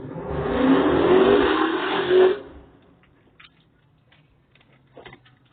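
A motor vehicle revs loudly and close by for about two seconds, then cuts off, leaving a quiet street with a few faint scattered sounds.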